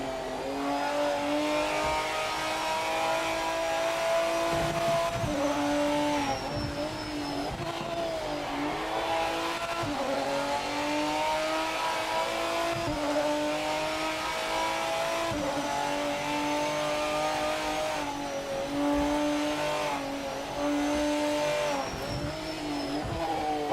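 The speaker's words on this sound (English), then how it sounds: "Lister sounds really good in this game." A Lister race car engine in a racing video game rises and falls in pitch through the gears, loud and continuous, with brief tire squeal and no talking.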